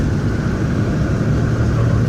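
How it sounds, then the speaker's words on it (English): Inside a snow plow truck cab, the heater fan blows on high to clear fogged windows, a loud, steady broadband rush of air over a low engine rumble. "It's a little noisy from the fan now"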